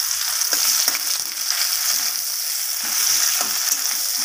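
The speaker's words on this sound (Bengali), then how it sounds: "পেঁয়াজটাকে কালার চেঞ্জ হওয়া পর্যন্ত আমি একটু ভেজে নেব" Sliced onion frying in hot mustard oil with a bay leaf, a steady close sizzle and crackle with a few faint stirring scrapes, no voices.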